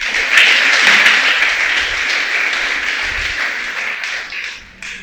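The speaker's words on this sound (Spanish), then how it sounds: "Dale un aplauso al Creador." A church congregation claps during a service, a loud, dense burst of applause close by that gradually thins and fades toward the end.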